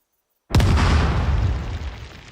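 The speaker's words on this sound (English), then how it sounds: "We'll just place dynamite here so you can see that explosion." Dynamite detonates in the building game Planetsmith: a single sudden loud boom after a moment of silence, then a long rumbling roar that slowly fades, with no talk.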